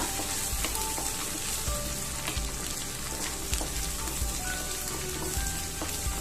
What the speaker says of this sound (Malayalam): ഇനി ഇതൊന്ന് നന്നായിട്ട് നമുക്ക് വഴറ്റി കൊടുക്കാം.